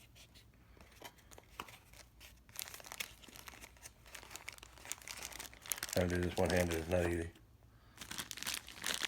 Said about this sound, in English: Let's get this little bag open